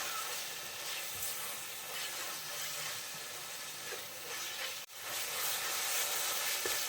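Tomato and crab curry base sautéing in a pan, a continuous close sizzle and hiss with a brief scraping stir partway through.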